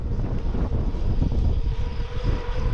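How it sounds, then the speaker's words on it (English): Crosswind buffeting a cyclist on a quiet Nebraska highway, a steady, loud low roar of wind noise rushing across the microphone throughout with no voices. "I've got a tiny crosswind."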